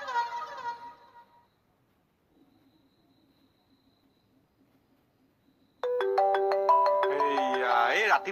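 A mobile phone rings with an incoming call, its bright, melodic ringtone starting abruptly and playing loudly and steadily to the end, after a short stretch of talk and near-silence.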